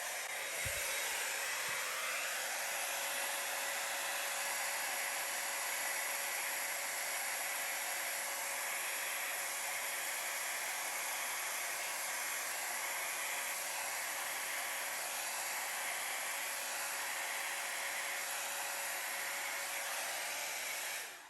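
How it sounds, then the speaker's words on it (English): A Yeeho hair dryer runs steadily for about twenty seconds, a loud continuous blowing hiss with a steady motor whine, used on acrylic pour paint with no talking over it. "let's get this Yeeho hairdryer going"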